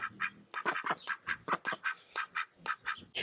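A group of farm ducks quacks up close, a rapid, busy run of nasal squawks that overlap and follow one another with no pause.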